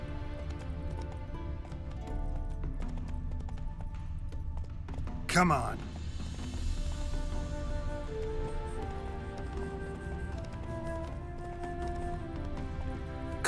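Hooves of a galloping horse in the video game Witcher 3 beat out a steady, running clip-clop while someone speaks briefly over them, and one sharp, loud noise cuts in midway.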